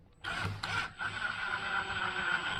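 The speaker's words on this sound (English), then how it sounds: "Run our screw down." Screw driven into LP SmartSide trim, a steady high-pitched drill whir running for about two seconds after a short start, loud and close with no talk.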